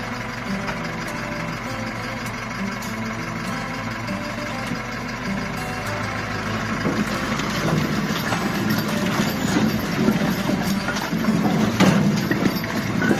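A vehicle loaded with alder firewood, split and delivered in Nova Ukrainka, drives off, its engine a steady broadband rumble that grows slightly louder and rougher toward the end, with no talk.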